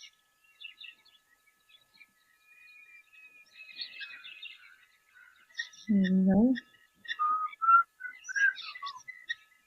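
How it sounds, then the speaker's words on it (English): A Diederik cuckoo calls at a waterhole with faint, repeated high whistled notes, distant and sparse among other birdsong, while a voice briefly speaks partway through. "I just heard the start of a Deirdre's cuckoo call."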